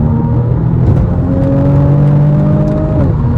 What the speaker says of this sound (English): Third gear on the gas.